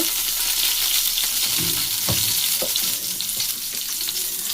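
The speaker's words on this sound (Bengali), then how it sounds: "শুধু একটা তেজপাতা ফোড়ন দেব" A single bay leaf spits and sizzles in hot oil as a spice tempering for a sprouted chickpea masala curry, with a steady close frying hiss broken by sharp crackles and a few stirring clinks.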